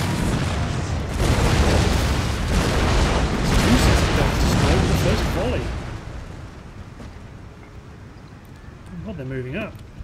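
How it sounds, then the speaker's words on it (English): Artillery firing on enemy guns in the video game Empire Total War, a run of deep booms and rumbling blasts rolling through the first half, then fading into quieter battlefield ambience, with someone talking over it. "We're going to open up on their artillery."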